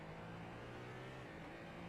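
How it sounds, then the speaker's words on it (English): A GT3 race car engine in the iRacing sim during a Daytona 24-hour endurance race, droning steadily and loud for the whole moment with a sustained, even pitch and no talk over it. "The engine does sound real nice too."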